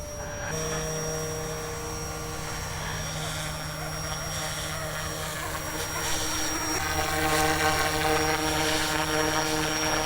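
A GOOSKY Legend S2 RC helicopter flies nearby outdoors. Its rotor gives a continuous, droning whine with steady tonal hum that grows slightly louder toward the end.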